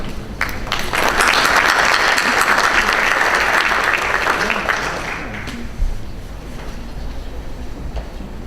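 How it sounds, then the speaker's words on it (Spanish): Loud, dense applause from a conference audience at the opening of an international infrastructure congress, welcoming the executive director of Proinversión to give the inaugural speech; it swells quickly, holds steady, then thins out toward the end. "Un fuerte aplauso para él."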